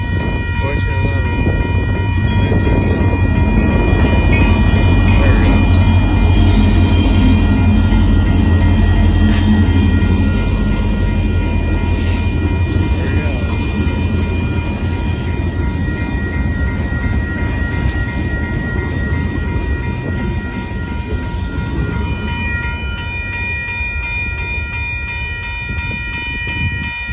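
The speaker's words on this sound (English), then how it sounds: "Here comes the southbound local." A Union Pacific southbound local freight train passes at Dittmar Road in Austin, Texas, with a long, loud rolling rumble of cars and wheels that holds steady before slowly easing off. Faint squeals and horn-like tones ride above it.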